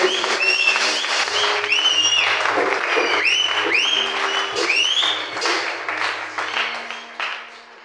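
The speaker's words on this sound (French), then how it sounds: "Est-ce que tu peux acclamer pour son établissement?" Church congregation clapping and cheering together, a loud sustained wave of applause with high whoops and shouts that slowly fades toward the end.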